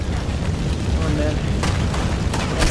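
Gunfire in the Red Dead Redemption 2 mission Eagle Flies, a dense low rumble of shots and booms with sharper cracks near the end, and a voice talking over it.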